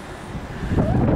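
Wind buffeting a microphone at the top of Lincoln Castle, a steady low rumble that grows stronger and gustier toward the end, with no talk over it.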